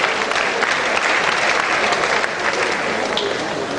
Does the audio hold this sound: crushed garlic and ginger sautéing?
no